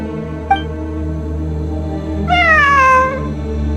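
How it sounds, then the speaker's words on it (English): A single drawn-out cat meow in Genshin Impact rises clearly over a steady low background hum, lasting under a second, with a tiny blip earlier. "It really is a cat."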